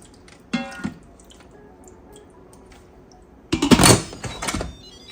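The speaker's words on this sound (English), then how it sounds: "I'm going to put in some water, just enough to come up to the line of the gizzards and not more." Water is poured into a pot of raw chicken gizzards before pressure cooking: a brief splash first, then a louder, sloshing pour after a quiet pause, close and clear.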